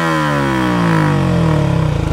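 A motorcycle with a modified aftermarket exhaust revving hard, a loud, close engine note rising in pitch then settling into a throbbing, pulsing roar, with no talking.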